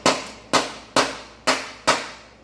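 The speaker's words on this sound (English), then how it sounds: "you can take a hammer and just kind of gently tap it in" A hammer gives five gentle, evenly spaced metal taps, about half a second apart, driving a ratchet selector into place against a vise. The taps are close and crisp, and each rings out briefly with no talk over them.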